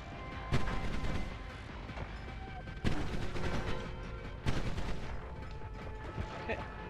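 Gunfire in the Noita video game: three sharp, loud blasts spaced a couple of seconds apart, each fading into a steady bed of game ambience.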